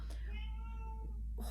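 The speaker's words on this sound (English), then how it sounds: "that's my cat, by the way" A single drawn-out cat meow, close and clear, with a brief higher squeak at the start and end.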